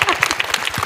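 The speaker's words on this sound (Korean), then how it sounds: "정말 큰 박수 한번 맞아가지고" A lecture audience claps together in a short, dense burst of applause, loud and close.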